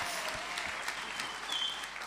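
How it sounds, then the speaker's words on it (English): Audience applause at a charity livestream event, a soft, fairly distant patter of clapping holding steady throughout, with a faint brief tone near the end. "Yeah, you can clap for my dad."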